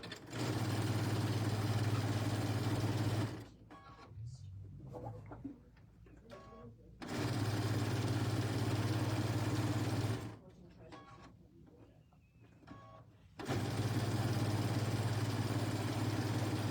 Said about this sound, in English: now you're just going to sew them together